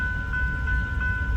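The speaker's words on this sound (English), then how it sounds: "we'll always have a night train" A train passes at night, heard as a steady low rumble with a sustained high tonal whine riding over it, constant and fairly close throughout.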